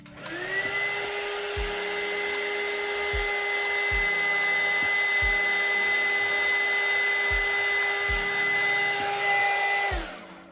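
A heat blower runs loudly and steadily for about ten seconds, drying an Arrma Senton RC car body, with a rising whine at start-up and a wind-down at the end, over faint rhythmic background thumps.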